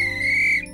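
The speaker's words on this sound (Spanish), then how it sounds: "Es divertido imaginar ser oficial de cruce, en especial cuando tienes un silbato como este." A crossing guard's whistle gives one steady, clear, loud blast that holds for most of the moment before cutting off.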